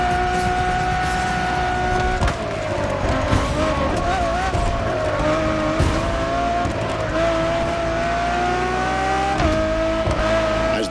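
A Ferrari Enzo supercar driving hard in The Crew Motorfest, its engine note rising and falling through gear changes with steady loud revving and brief tire squeal throughout.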